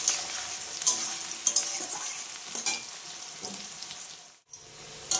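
Potatoes and chopped onions sizzle in a frying pan, with a continuous hiss and periodic stirring scrapes, near and moderately soft, and a brief drop in the sizzle toward the end.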